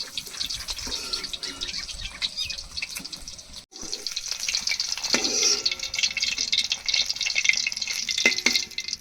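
Duck eggs fry in hot oil in a pan, giving a continuous crackling sizzle dotted with fine pops and spits. It holds at an even level throughout, with no talking.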